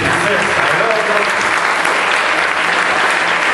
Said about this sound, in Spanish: Susana Rabinet, un aplauso para la princesa.